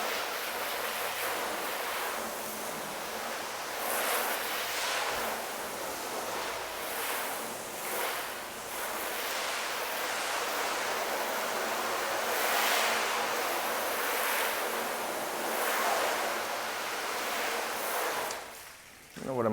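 Water spraying to rinse a car's coated paint, a continuous broad hiss of spray hitting the bodywork, close and steady with slight swells, no talking.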